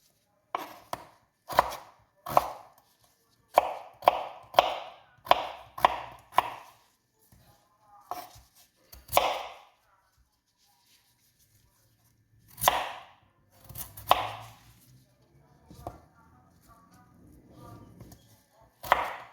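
Ingredients for a salad chopped with a knife on a board, crisp close strikes in quick bursts with pauses between, quiet background.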